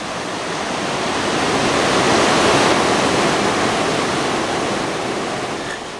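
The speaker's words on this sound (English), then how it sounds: "A very, very fast flowing river." A very fast, swollen river after heavy rain rushes in a loud, steady roar of broadband water noise, swelling slightly mid-clip and heard close by without any voices.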